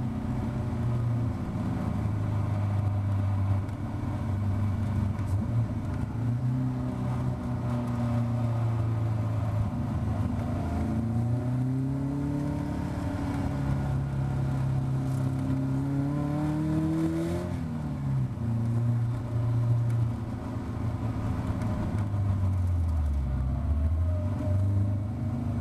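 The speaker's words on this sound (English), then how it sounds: "Here we are, all stacked up behind the safety car, going through hall bends." Caterham Academy race cars at Cadwell Park run in a tight queue behind the safety car, their engines droning steadily and rising and falling in pitch as they take the bends. The sound is close and continuous, with no voices.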